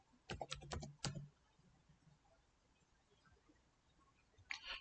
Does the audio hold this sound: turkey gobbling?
no